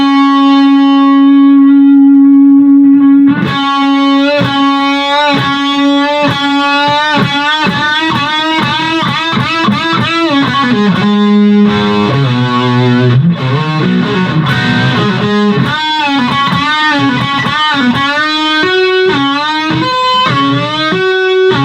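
Loud distorted electric guitar plays a guitar solo, bending sustained lead notes and fast melodic runs with effects and echo, continuous and alone without talk.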